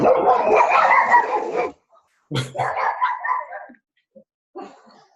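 A dog barks and yips during an indoor meeting, with a long burst of barking, a pause, then shorter barks and a faint final yelp, loud and close.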